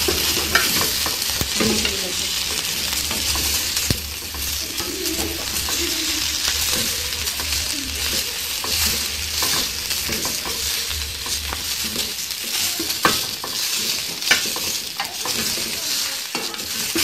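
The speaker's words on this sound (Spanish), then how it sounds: "Las vamos a asar en el mismo sartén donde freímos las quesadillas." Tomatoes roast in the same frying pan used earlier for fried quesadillas, giving a steady sizzle with faint clicks and stirring knocks throughout, alone with no talk.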